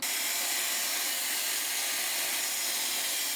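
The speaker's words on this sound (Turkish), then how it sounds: "Şu aparatla bu normal fön aparatı" A hair dryer fitted with a standard blow-dry nozzle runs steadily while hair is styled. It gives a loud, unbroken airy roar close by, with no change in pitch and no talking.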